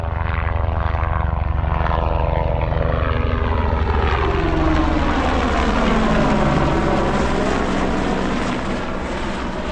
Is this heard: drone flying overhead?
yes